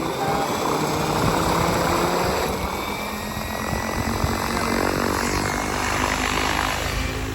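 A Blade 700 RC helicopter flies at its idle 1 head speed, giving a loud, continuous rotor and engine drone that stays steady close by for the whole stretch, with a broad whooshing wash and no voices over it.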